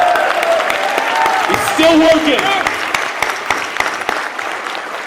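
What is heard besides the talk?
audience applause for Drew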